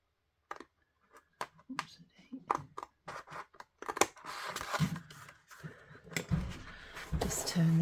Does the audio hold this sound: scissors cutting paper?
yes